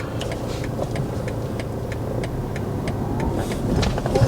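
A car's engine runs at low idle during a driving lesson, a steady close rumble with faint rhythmic ticking and no clear stall or cutoff.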